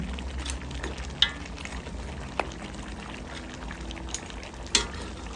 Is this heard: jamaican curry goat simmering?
yes